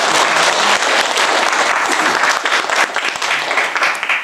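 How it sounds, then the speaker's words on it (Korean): An indoor audience at a retreat centre's church gathering breaks into sustained, dense clapping, loud and close, continuing for several seconds as thanks to volunteers. "우리 감사 박수 한번 하겠습니다."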